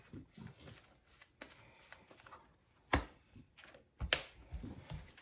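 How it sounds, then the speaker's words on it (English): Cardfight Vanguard cards being shuffled back into a deck during a card game, giving soft scattered riffling and tapping bursts with a couple of sharper card slaps near the end, fairly quiet. "choose up to 2 units with Pacifica, shuffle them into the deck"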